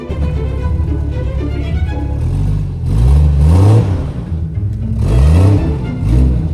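Off-road vehicle on street tires rock crawling, its engine revving hard in repeated surges over a steady rumbling drone, loud and close with no talk.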